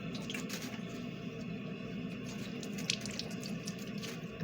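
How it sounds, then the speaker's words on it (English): Tap water runs steadily into a kitchen sink during handwashing, a close, continuous splashing hiss with small drips and squishes, and no voices. "and then come over here and wash my hands."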